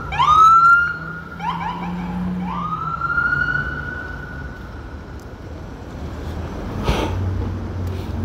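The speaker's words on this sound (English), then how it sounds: "I'll bet you that's a COVID ambulance" An ambulance siren wails in repeated rising sweeps as it passes through Midtown East Manhattan near Bellevue, loud at first and then fading into steady street traffic noise.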